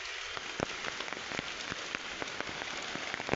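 Heavy rain falls in the Malenadu area, a dense continuous hiss with many sharp droplet taps spattering across the surface, steady and close for the whole stretch.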